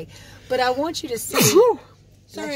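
A single sharp sneeze bursts out from a woman mid-sentence in a home keto vlog, close and loud, with her talking just before and apologizing right after.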